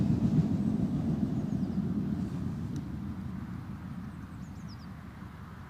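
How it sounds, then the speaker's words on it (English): An Airbus A321 taxiing at Newcastle Airport produces a steady low engine rumble heard from a distance, slowly fading over several seconds with a faint high whine above it. "that A321 still working its way down the taxiway"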